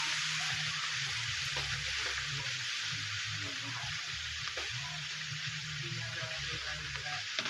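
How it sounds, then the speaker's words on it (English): Mustard greens fry in bacon grease with a steady, loud broadband sizzle throughout, dense and close, with faint stirring scrapes beneath. "I'm going to add my greens."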